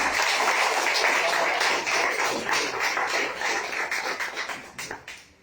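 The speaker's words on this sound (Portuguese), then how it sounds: "Aplauda o Senhor." A church congregation claps together during a worship service, a loud, fast, dense patter of hands that thins and fades toward the end.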